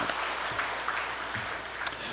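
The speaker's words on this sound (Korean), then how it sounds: "한번 기악부랑 더불어 박수 한번 합시다" Continuous applause from a church congregation and instrumental ensemble fills the room during a Korean Methodist Sunday service, even and moderately loud, with no talking.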